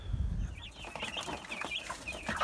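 Young chickens moved from a brooder into a large cage peeping and cheeping in high, short chirps, several overlapping, with a low rustle at the start.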